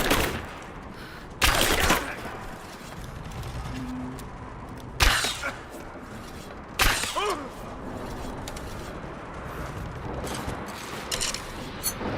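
Gunfire in Rise of the Tomb Raider during a firefight, with a few loud sharp bursts spaced several seconds apart over continuous rumbling battle noise.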